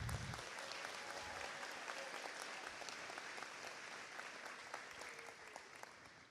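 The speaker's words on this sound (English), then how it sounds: "Please, let's all give Mr. Gordon a round of applause." A school graduation audience at John Marshall School of Information Technology gives a sustained round of applause, a dense, even wash of many hands clapping at a distance, quiet and continuous throughout with no talk over it.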